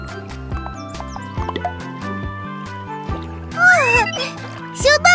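Cartoon horses in a children's farm cartoon, rhythmic clip-clop hoofbeats under bright background music, with a voice speaking over them and playful squeaky sounds toward the end.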